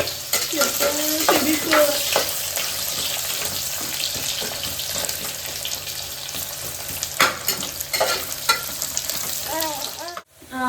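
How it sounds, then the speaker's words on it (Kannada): Chillies and onion fry in a pan for biryani, giving a steady loud sizzle with stirring scrapes and clinks throughout, close by, before a brief pause near the end. "ಮೆಣಸಿನ್ಕಾಯಿ ಸ್ವಲ್ಪ ರೋಸ್ಟ್ ಆದ ತಕ್ಷಣ ಆನಿಯನ್"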